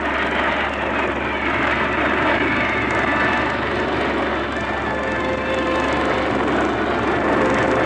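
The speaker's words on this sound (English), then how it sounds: "As the planes wheel and turn, they leave a trail of smoke" Propeller planes of an aerobatic squadron fly overhead around 1960, wheeling and turning while trailing smoke, producing a continuous loud engine drone that holds steady throughout, heard with no talking.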